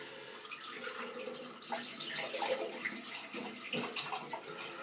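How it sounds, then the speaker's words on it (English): Water running from a tap into a sink while someone rinses their face during a first straight-razor shave, a quiet, uneven splashing and trickling with small surges as hands move through the stream. "I'll rinse my face and we'll go again"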